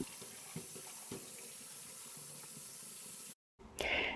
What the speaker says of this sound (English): The next step is to rinse the potatoes in cold water since they can get quite dirty when you peel them.